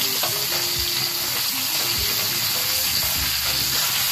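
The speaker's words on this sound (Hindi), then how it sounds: "अब इन्हें 2 से 3 मिनट तक फ्राई करेंगे।" Mustard seeds, cumin, red chilies and curry leaves fry in hot oil with a loud, continuous hissing sizzle and a few faint stirring scrapes, close up and unbroken, with no one talking.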